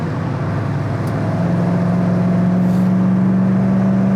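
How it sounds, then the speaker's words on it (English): A 1967 Pontiac GTO's engine drones steadily from inside the cabin at highway speed as its four-barrel carburetors open up, a constant loud rumble with a rising tone. "You can hear them 4 barrels open up."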